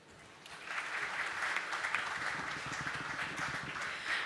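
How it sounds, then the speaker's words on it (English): Audience applause at the Sports Illustrated Sportsperson of the Year 2017 award ceremony: many hands clap in a sustained, fairly distant wash that swells after the first half-second and stays steady. "Let's give them a big round of applause"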